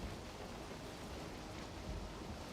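Rain falls in the swamp of the Valheim video game, a continuous soft hiss of downpour that stays steady and faint with no other sounds.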